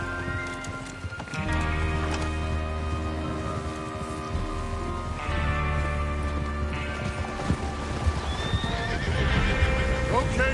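Horses clip-clopping and neighing in Red Dead Redemption 2 as a gang rides out to rob a train, steady hoofbeats mixed with whinnies and rain against a continuous musical backdrop.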